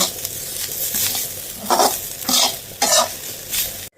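Grated coconut and curry leaves frying in a pan while being stirred, with a steady sizzle and scraping strokes that rise into several louder bursts near the end, close and with no talk.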